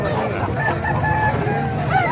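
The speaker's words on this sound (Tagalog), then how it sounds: "Ay, ganda ng mga manok dito." Chickens and roosters at a busy poultry market in Calumpit, Bulacan, crow and cluck close by in a dense, continuous chorus, with crowd murmur mixed underneath.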